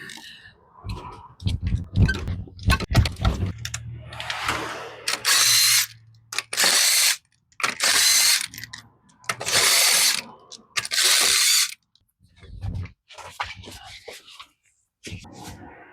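Ratchet loosening the lug nuts on a jacked-up vehicle wheel: five or six short, rapid clicking bursts with pauses between them, following some brief speech at the start.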